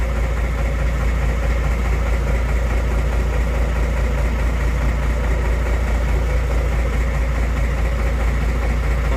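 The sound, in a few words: fire truck pump engine running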